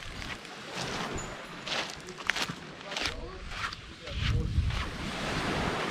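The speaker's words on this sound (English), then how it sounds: "Now waves." Ocean waves surge and wash at sea amid heavy wind buffeting the microphone, rising and falling in loudness, with a faint voice now and then.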